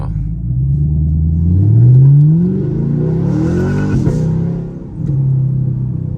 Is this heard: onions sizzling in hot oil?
no